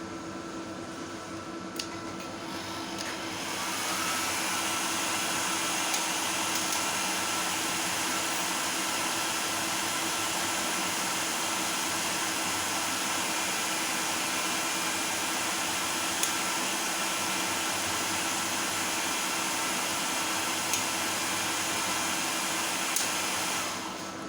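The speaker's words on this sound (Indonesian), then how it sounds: "di sini kipas atau fan-nya sudah berfungsi dengan normal ya, karena suhu inverter naik di sini" Cooling fan of a 3000W pure sine wave 48V inverter kit with transformer, running under heavy load as the inverter heats up: a steady, loud broadband whir with a constant hum, starting after a few seconds and holding evenly to the end.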